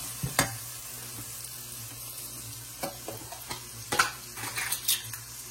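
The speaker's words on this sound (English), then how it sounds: "Saute that around a little bit before I add 2 cloves of garlic" Two cloves of minced garlic sautéing with onions in a pan give a quiet, steady sizzle, broken by a few sharp clinks and scrapes of a utensil stirring against the pan.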